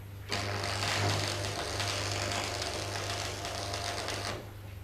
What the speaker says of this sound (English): Tack weld as before at one end.